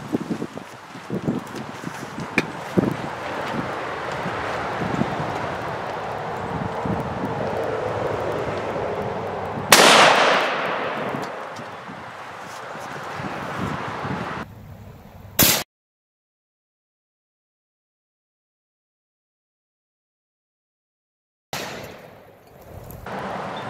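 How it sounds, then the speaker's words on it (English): A 6.5 Creedmoor rifle is fired through a cast iron pan standing on its side outdoors: one sharp, loud report cuts through steady wind rumble, followed by another brief burst before the sound drops out. "I'm gonna shoot through both sides of that pan,"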